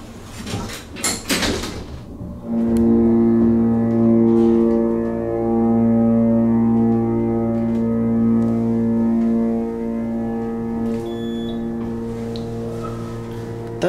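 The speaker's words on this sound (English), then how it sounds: "That has definitely got to be the best motor I've ever heard on an elevator." A hydraulic elevator motor at a university student center in Houston starts after a few seconds of clatter and runs as a loud, steady hum with strong sustained tones for about ten seconds.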